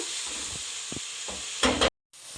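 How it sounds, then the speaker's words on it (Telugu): Green chillies and ginger paste frying in a pan for dhaba style chicken curry, a steady close sizzle with a few soft stirring scrapes and a brief louder burst before a short cut to silence. "పచ్చిమిరపకాయలు వేసేసి ఇలా బాగా వేయించుకోవాలి"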